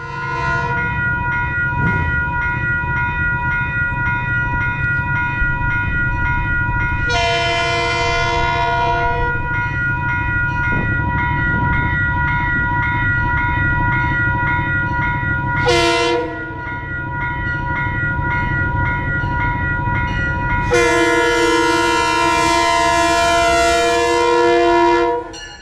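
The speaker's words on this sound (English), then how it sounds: "the big GE chugs through the station on track 3" A big GE diesel freight locomotive rumbles through a station on track 3 with a steady low engine drone, sounding its multi-tone horn in several blasts, including a long final one, loud and close.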